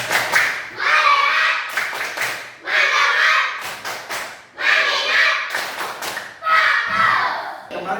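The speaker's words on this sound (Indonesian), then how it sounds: "coba kali lagi tepuk fokus dulu" A primary school class performs the rhythmic 'tepuk fokus' clapping chant, loud patterned bursts of group claps and thuds alternating with children's chanted voices in a repeating cycle.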